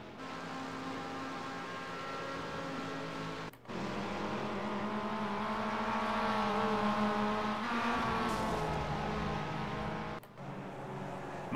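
Race cars drift around a short track during a Phoenix stock-car event, several engines roaring in layered sustained harmonics that rise and shift, loud and continuous for the whole stretch apart from two brief cuts.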